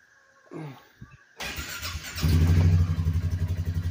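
A brand-new 2024 Polaris Sportsman 450 ATV engine starts up after some handling noises, then idles steadily with a low, rhythmic throb close by, fairly quiet and with no talking.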